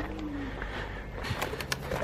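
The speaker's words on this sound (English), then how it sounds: "Pigeons." Pigeons cooing at an empty London train station, short soft coos over a quiet hum of station ambience, with a few faint clicks and knocks near the end.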